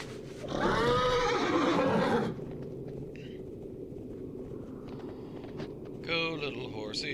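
A horse in World of Warcraft gives a loud, sustained whinny near the start, then a shorter neigh at the end, with faint hoof steps between under background game sound.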